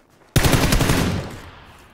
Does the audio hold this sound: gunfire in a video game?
yes